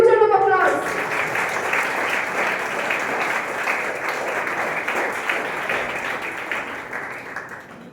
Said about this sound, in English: Let's put a huge round of applause.